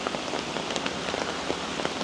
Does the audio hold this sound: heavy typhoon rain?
yes